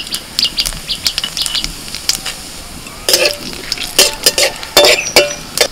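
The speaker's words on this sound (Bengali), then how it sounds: "কড়াইয়ের মধ্যে আবার একটু সরষের তেল দিয়ে দিয়েছি, আর তেলের মধ্যে ফোড়নে দিচ্ছি তেজপাতা, শুকনো লঙ্কা, এলাচ, দারচিনি, গোটা জিরে।" Bay leaf, dried red chilli, cardamom, cinnamon and whole cumin temper in hot mustard oil in a wok, giving close crackles and spitting pops over a low sizzle, with occasional clinks of a spoon against the pan.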